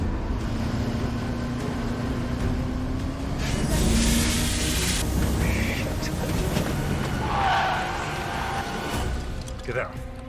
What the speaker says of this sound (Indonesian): konvoi mobil para kartel tiba-tiba mendekat dengan cepat